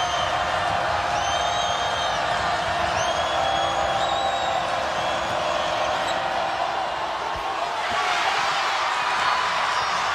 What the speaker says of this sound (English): The crowd ignites in Gainesville.